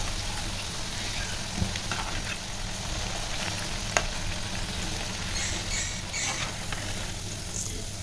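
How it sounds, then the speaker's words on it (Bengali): Pitha cakes dropped one by one into hot oil in a wok fry with a steady, even sizzle, soft and continuous with a couple of faint clicks, and no talking. "গরম করে নিয়ে এবারে আমি এক এক করে পিঠাগুলো তেলের মধ্যে ছেড়ে দিচ্ছি।"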